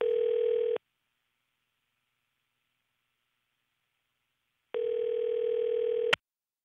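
Telephone dial tone when placing a call to a guest: a steady tone for under a second, several seconds of near silence, then the tone again, ending in a sharp click.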